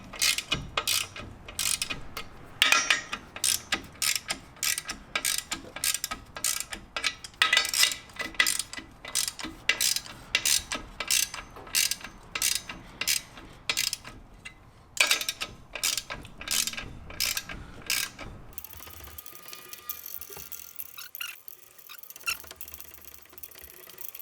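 Ratchet wrench clicking rapidly in repeated bursts while tightening clutch pressure plate bolts on a Nissan 350Z during a clutch upgrade, close and steady, with a quieter rustle at the end.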